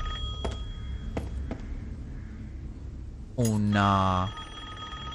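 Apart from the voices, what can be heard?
telephone ringing in video game Resident Evil Village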